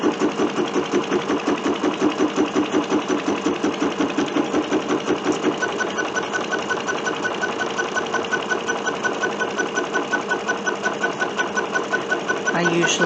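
A sewing machine stitching fabric for a bunting runs in a fast, steady mechanical rhythm that is close and continuous the whole time.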